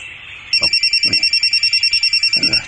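An incoming call rings on a mobile phone as a loud, close electronic ringtone that pulses rapidly and evenly for about two seconds, with faint voices briefly underneath.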